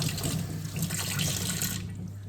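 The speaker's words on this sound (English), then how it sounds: "I'm gonna rinse it a little bit, okay?" Dill rinsed under a running kitchen tap, a steady broadband rush of water splashing into the sink that holds nearly constant for about two seconds before cutting off, with no talk over it.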